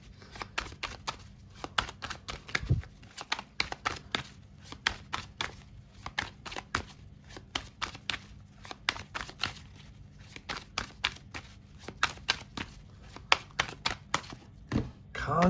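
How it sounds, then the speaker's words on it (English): A deck of tarot cards reshuffled by hand, a long run of quick crisp card riffles and flicks sounding close, with talk intermittently in the background. "we're gonna reshuffle here"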